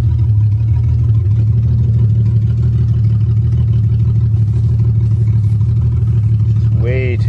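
A 1982 Toyota Cressida engine idling steadily with a low, even hum running throughout, close and loud, while someone talks over it.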